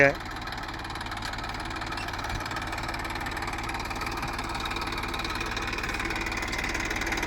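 A tractor engine runs at idle in rural Kutch, a constant close mechanical drone with a knocking pulse that holds steady and grows slightly louder toward the end.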